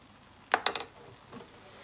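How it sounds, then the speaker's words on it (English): Ground turkey sizzles faintly in a pan, broken by a short burst of clicking, scraping utensil strokes and a softer scrape afterward. "So now that our ground meat was cooking for a few minutes"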